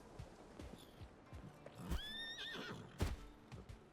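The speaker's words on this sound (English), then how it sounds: "we're gonna grab our horse, El Diablo." A horse in the Palia video game neighs in a bright, rising-and-falling whinny near the middle, with soft clip-clop hoof sounds and light rustling around it.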